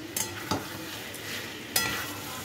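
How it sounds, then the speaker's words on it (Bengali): Chicken fries with a ginger, garlic and green chili paste in a pan, a quiet continuous sizzle punctuated by a few sharp scraping stirs of a spoon against the pan. "এবার মশলাটা ভেজে তারপর বাকি মশলাপাতি দেবো, মানে গুঁড়ো মশলা।"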